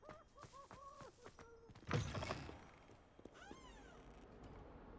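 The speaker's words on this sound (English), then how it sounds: "All it was is I pet the cat." A cat in the video game Hogwarts Legacy meows several times after being petted, with short rising and falling calls, a thump in the middle and a fainter meow near the end.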